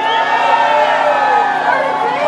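A crowd cheers and whoops at an outdoor wage parity march, a dense, steady roar of many voices that holds at the same loud level throughout, with no single voice standing out.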